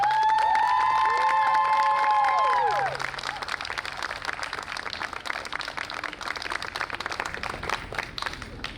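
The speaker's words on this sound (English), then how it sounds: "Please give a round of applause to your cadets." A crowd at a fire rescue cadet ceremony breaks into steady applause with scattered cheers and shouts. Lingering voices and tones fade in the first few seconds, and the dense clapping carries on to the end.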